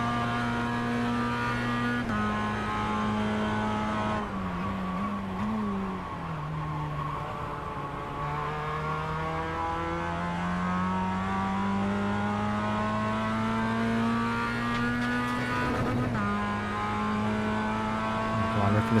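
Mazda MX-5 engine in the iRacing simulator at Summit Point, buzzing steadily near redline with pitch shifts through gear changes and a brief dip and climb, loud and continuous.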